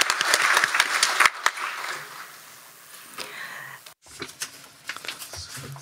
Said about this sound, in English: Let me give them a big applause.